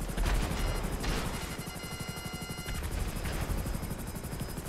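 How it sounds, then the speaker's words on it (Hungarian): An FH-1 Hunter helicopter in GTA 5 thrums with fast, loud rotor chops, mixed with bursts of gunfire and crashes in a chaotic game fight. "Füstöl a helikopter!"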